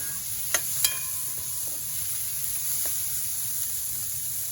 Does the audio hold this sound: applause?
no